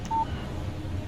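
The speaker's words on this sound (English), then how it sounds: "Text message from Barry." A short single electronic beep sounds on a phone as a text message arrives in the game Alan Wake Remastered, brief and clear against a quiet background.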